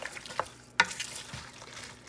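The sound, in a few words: stirring chicken veggie stew in a pan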